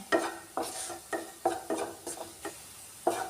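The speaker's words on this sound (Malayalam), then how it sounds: "പച്ചമുളകിൻ്റെ കൂടെ ഇഞ്ചിയിട്ട് വഴറ്റി എടുക്കാമേ" Ginger and green chillies sautéing in a pan, with repeated scraping stir strokes over a faint sizzle, close and quiet, roughly every half second.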